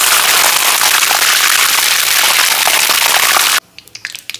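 Curry leaves and mustard seeds spluttering in hot oil in a home kitchen pan, a loud dense crackle and pop that runs steadily, then cuts to quieter scattered sizzling near the end.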